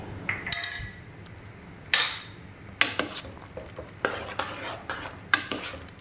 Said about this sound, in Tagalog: Haluin lang natin ng haluin